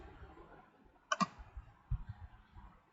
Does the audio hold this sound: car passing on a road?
no